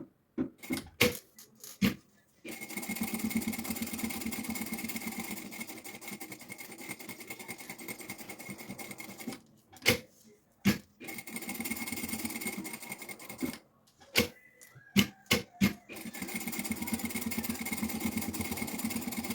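Sewing machine stitching a seam on a preschool backpack, running in long steady bursts with short pauses and sharp clicks between stitching runs, close and alone.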